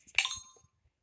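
Chimes notification tone on a Meta Quest 3 headset, a single bright glassy chime struck once and ringing briefly before fading to quiet.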